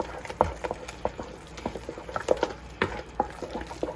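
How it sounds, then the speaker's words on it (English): A timbale mixture seasoned with black pepper and salt, bound with an egg, being stirred in a bowl, giving soft wet clicks and scrapes in an irregular rhythm, close and fairly quiet with no talk. "Stir this up together."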